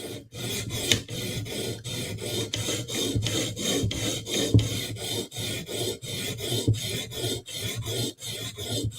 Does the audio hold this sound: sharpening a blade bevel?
yes